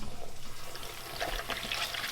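Water is poured into a container of food to wash it, a continuous splashing rush that grows busier and brighter toward the end.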